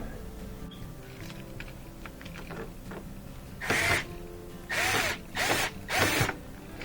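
A Phillips head screw on a Whirlpool washer door boot is loosened with a tool: a low background hum with faint mechanical clicks, then a series of four short, harsh bursts of ratcheting or driving noise close to the microphone.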